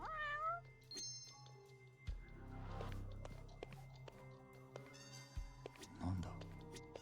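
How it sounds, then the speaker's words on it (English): A cat meows loudly several times in the Judgment video game, sounding over game music, chimes and effects while a person talks. "How loud is that cat?"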